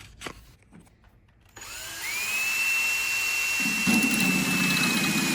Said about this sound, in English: so now I've drilled in my drill bit.